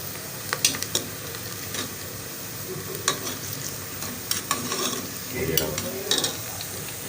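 Beef frying in ghee in a hot kitchen in Karachi, a steady sizzle with occasional scrapes and clinks of a utensil stirring in the pan, close and continuous.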